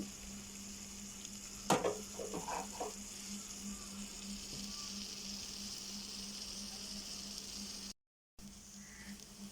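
Taro leaves frying in a pan, a steady close sizzle with a brief burst of stirring clatter near the start, then an even hiss that continues with no talk.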